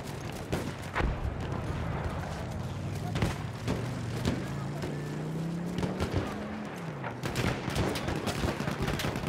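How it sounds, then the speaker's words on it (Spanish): Distant gunfire and battlefield rumble in Battlefield 1, with an enemy machine gun rattling among scattered shots and explosions while a voice speaks over the ongoing combat. "¡Ametralladora enemiga!"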